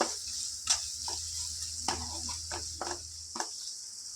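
Ginger garlic paste frying in a pan for an egg curry, a soft continuous sizzle with a low hum beneath, broken by several sharp scraping strokes of a spoon stirring against the pan.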